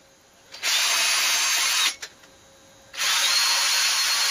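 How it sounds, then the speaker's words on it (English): A power drill bores holes into a custom multi-scale guitar body, with two sustained high whining bursts separated by a short pause. "Then I can now mark and drill"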